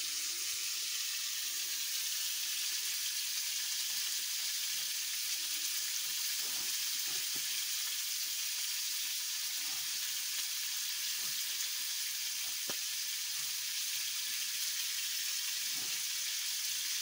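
Eggplant frying in a pan, with a steady, dense hiss of sizzling oil throughout, faint occasional clicks, and no talking.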